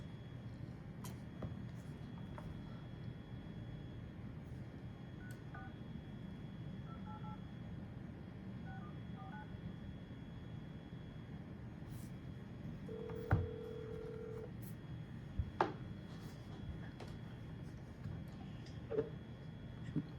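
A short run of telephone keypad dialing tones plays faintly under a steady low hum of background noise before a phone call, followed by a longer single tone and a few scattered clicks.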